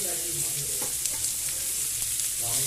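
Chopped carrots go into hot oil with minced ginger and garlic, giving a soft, steady sizzle with a few light stirring knocks, fairly quiet and close, with no voices.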